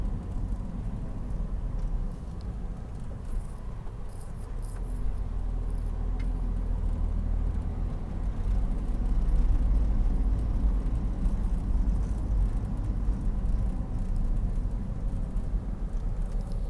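A car rolls through Los Angeles city blocks in the Crenshaw area, crossing speed bumps with another vehicle behind it, heard as a steady low engine and road rumble from inside the cabin, without speech.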